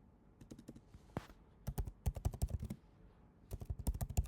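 Computer keyboard keys clatter in quick bursts as a comment is typed, with short pauses between runs of keystrokes, close and clear with no talk.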